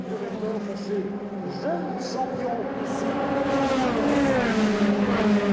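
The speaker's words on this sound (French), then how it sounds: "ils lancent leur Formule 3" Formula 3 single-seater race car engines rev and accelerate, rising in pitch over several seconds, with a voice talking over the growing roar, at the Pau Grand Prix.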